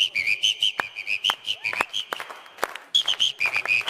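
A person imitates a whistle with the mouth, producing a series of short, shrill trilling bursts in quick bouncing rhythm, close and clear, broken by brief pauses.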